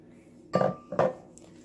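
Two distinct clinks of a metal utensil striking a pan or bowl while an egg is mixed into a meatball sauce, close and clear against a quiet kitchen background.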